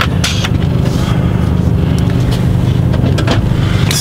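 A car drives on toward the A7 Autobahn, its engine a steady low rumble close by, with road and wind noise and a few brief scraping bursts over the drone.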